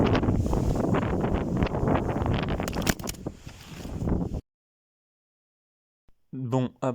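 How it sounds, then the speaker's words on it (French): Strong outdoor wind buffets the microphone in loud, rumbling gusts for about four seconds, then cuts out to silence before a brief burst returns at the end. "Vous pouvez voir comme le vent souffle vraiment fort"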